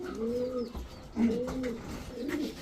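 A male green-necked pigeon coos in repeated low, throaty phrases, three rolling bursts close by, with faint chirps in the background.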